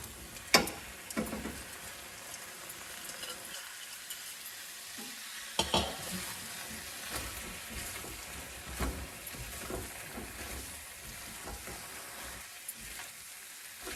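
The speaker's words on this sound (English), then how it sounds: "So I think I am ready to add my peppers." Bell peppers go into a simmering potato curry, giving a steady close sizzle with scraping and clattering stirring strokes throughout and a few louder knocks of the spoon against the pan.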